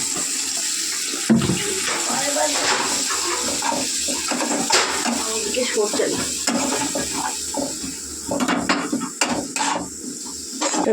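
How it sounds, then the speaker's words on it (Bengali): Water is poured into a cooking pan over ground coriander and cumin, giving a continuous splashing, sizzling wash with a few clinks of utensils, close and fairly loud, with a voice faintly underneath. "সামান্য জল অ্যাড করবো।"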